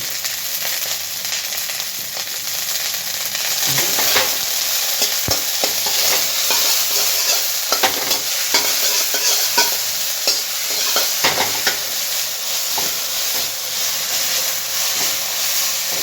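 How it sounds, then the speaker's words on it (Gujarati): Veg chow mein noodles with chili paste and ginger stir-fried on a high flame, Indo-Chinese style without onion or garlic, sizzle loudly and steadily up close while a spatula scrapes and clacks against the pan throughout. "એટલે સ્ટર કરીએ છીએ અને સ્ટર ફ્રાઈડ"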